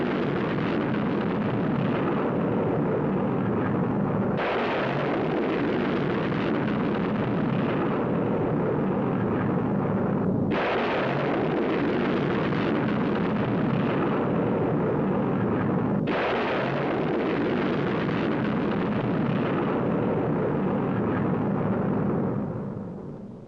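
Air Force missiles launching in a 1950s defense setting, a sustained roaring rumble that fills the whole span, with three abrupt surges where a fresh loud blast cuts in, close and powerful throughout.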